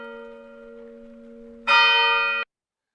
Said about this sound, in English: We needed a church bell.